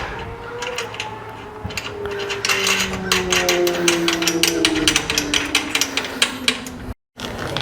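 Nut being tightened onto a trailer spare tire mount with a ratcheting tool: rapid close metallic clicking and rattling, steady for several seconds.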